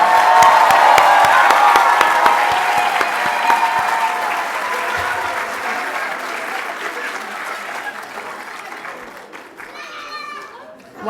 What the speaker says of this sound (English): Can we get one big round of applause?